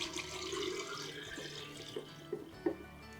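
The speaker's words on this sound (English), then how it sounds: "Pour the lime in." Lime solution pouring into a jar of fresh eggs for preserving, a soft steady trickle and splash of liquid that tapers into a few distinct drips and plops near the end, quiet and close.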